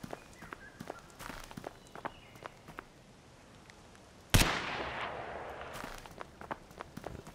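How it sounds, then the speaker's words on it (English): A single sharp, close gunshot from Escape: Sierra Leone, a CryEngine survival game, cracks out midway and leaves a rushing noisy tail, set among soft scattered footsteps and ticks. "The gun sounds are really nice, but that's just because it's Cryengine."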